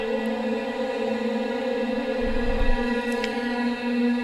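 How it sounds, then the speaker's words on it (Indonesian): A sustained, breathy saluang bamboo flute drone, recorded and electronically processed, with heavy reverb and a layered quality, steady and unbroken, with a soft low thump midway. "Ini adalah bunyi saluang yang direkam kemudian saya olah."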